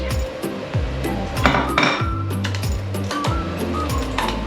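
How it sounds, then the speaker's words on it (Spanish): A kitchen knife chops garlic and chili pepper on a cutting board in a series of close, sharp, rapid taps, alone without talk. "vamos a continuar troceando las verduras"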